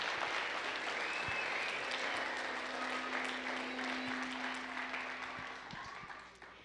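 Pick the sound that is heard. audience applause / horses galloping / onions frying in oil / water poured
audience applause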